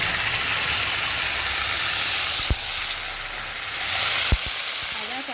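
Asafoetida sizzles loudly in a pan of hot oil for a vegetarian Bengali dish, a continuous close frying hiss with two sharp knocks of a spoon against the pan as it is stirred.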